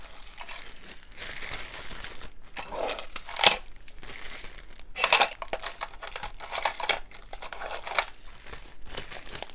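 A plastic Ziploc bag is crinkled while a diamond painting kit is packed up: close, dry rustling and crackling in irregular bursts with a few sharper snaps, and no voices.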